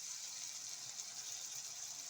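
One cup of water poured into a pan of frying kaleji and pota (liver and offal), giving a steady, even rushing hiss that lasts throughout with no talking.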